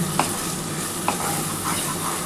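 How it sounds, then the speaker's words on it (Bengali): Bottle gourd leaves and onion stirred in a sizzling pan, with a steady fry hiss and two or three brief scraping strokes of the spoon. "এবার এটা খুব ভালোভাবে কিন্তু নাড়াচাড়া করতে হবে।"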